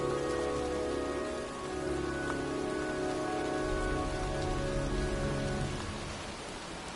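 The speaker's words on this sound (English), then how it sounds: "It's cold. It's raining." Steady rain falls in a PS4 video game, a dense, continuous patter on surfaces under a low rumble, moderately loud and even throughout with no voices.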